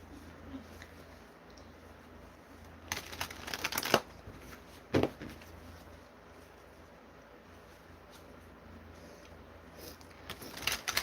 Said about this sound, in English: I'm gonna shuffle up